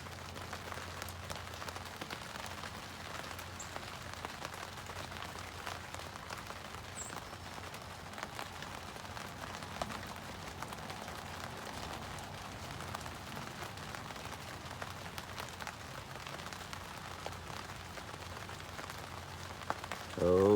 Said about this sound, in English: here's some pitter patter of the rain